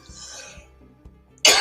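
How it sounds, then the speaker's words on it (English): A single sharp, loud cough bursts out near the end after a stretch of near silence broken only by faint low thumps; no one speaks. "I apologize for the cough."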